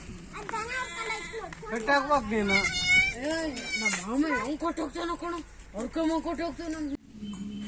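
A young goat kid bleats over and over in close, wavering, high-pitched calls packed one after another, loud and near.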